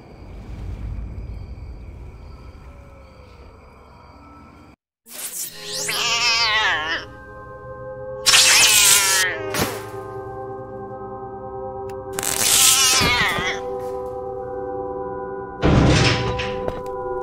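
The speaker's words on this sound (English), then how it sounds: "The poor cat. You can hear him screeching all over the base." In the PC game eXperience 112 from 2007, a cat on a base screeches in several loud, drawn-out wails, separated by pauses, over a humming mechanical background.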